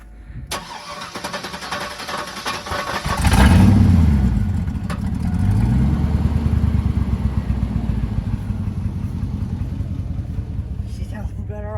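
A 2000 Chevrolet Silverado with a bad 4L60E transmission runs close by after a muffler delete, a steady loud rumble that swells early and then holds an even idle throughout.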